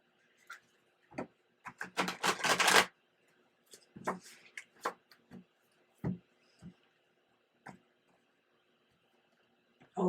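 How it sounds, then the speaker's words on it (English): A deck of tarot cards is shuffled close by, with a quick riffling burst followed by scattered soft taps and shuffles as the cards are handled in a quiet room. "One more shuffle."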